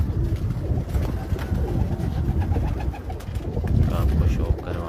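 Flying pigeons cooing on a rooftop, low murmuring coos and flutters in a dense outdoor wash, with a voice speaking intermittently nearby.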